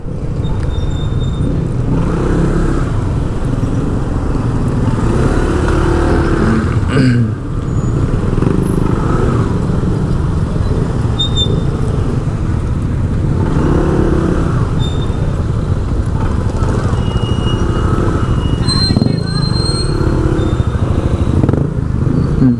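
Busy road traffic near a pier-head construction site on the NSCR rail project, with motorcycles and cars passing close by in a continuous, loud rush of engines and tyres, and the odd higher whine over the roar.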